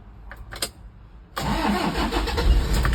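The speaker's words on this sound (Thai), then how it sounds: "เครื่องฟิสตาร์ติดง่ายนะครับ" A used car engine cranks briefly and fires up, then settles into a steady, loud close idle after a few faint clicks, with no talk over it.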